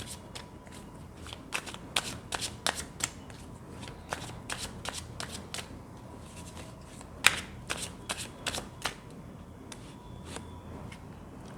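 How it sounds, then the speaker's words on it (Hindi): Tarot cards being shuffled by hand, giving a steady series of crisp riffling snaps and flicks, close and fairly quiet, with no talking over them. "जब तक मैं कार्ड शफल कर रही हूँ"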